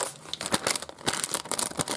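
A plastic toy surprise packet is crinkled and torn open up close, with a rapid series of loud, crisp crackles and rustles in irregular bursts and no talk over them.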